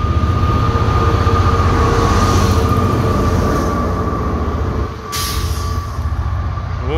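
A Transport for Wales Class 67 diesel locomotive runs close by with a loud, steady engine rumble and a sustained whine, holding a constant drone for the whole stretch with a brief dip near the end.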